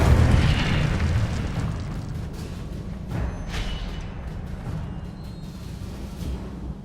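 A fiery Incendio spell blast in the Hogwarts Legacy video game, a loud whooshing burst up front that flares again briefly a few seconds later, trailing into a low rumbling crackle with no talk.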